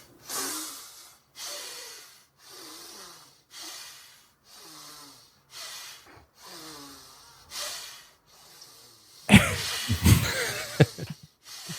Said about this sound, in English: for listeners, you just heard testicular breathing